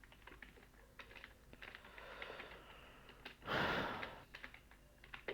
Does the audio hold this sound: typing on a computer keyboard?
yes